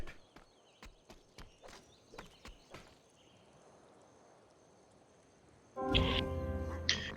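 Horse hooves clip-clop in a Civilization 5 strategy game as chariot archers move, a run of separate sharp hoof strikes over the first few seconds, then quiet before a louder musical game sound.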